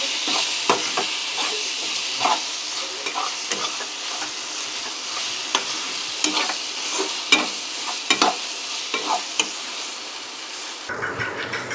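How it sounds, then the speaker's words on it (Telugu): Chili powder stirred into a leafy greens pulao in a pan, a spoon scraping and clinking in an irregular rhythm over a constant frying hiss, close and fairly loud, with no one talking. "ఒకసారి కలుపుకుందాం"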